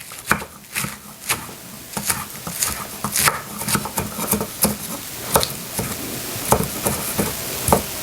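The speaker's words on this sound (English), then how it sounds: "I'm going to chop my spinach while that's sitting" A knife chops spinach on a cutting board, producing crisp, fairly loud knocks in an uneven but steady rhythm, about one or two per second, with soft rustling between strokes.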